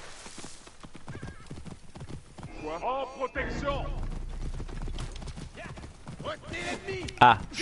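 Horse hooves gallop in a steady clip-clop rhythm in Assassin's Creed Origins, with a horse whinnying near the end, all under game music and voices.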